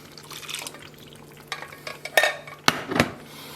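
Risotto alla Milanese is stirred in a pot after broth is poured in, giving soft wet scrapes and a few sharper spoon clacks against the pot over a low simmering background.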